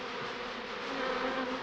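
Steady, dense buzzing of a mass of bees in a laboratory, a close continuous droning hum with no voices.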